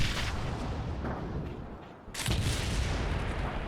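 Naval guns of the battleship Triumph firing in a war game, a dense roaring boom that drops away briefly and then surges back as a second heavy, sustained blast.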